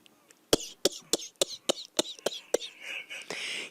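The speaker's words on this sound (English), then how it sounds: "You imagine if I coughed like that every time?" A person coughs about eight times in a quick, evenly spaced run, each cough sharp and close, trailing off into breathy throat noise at the end.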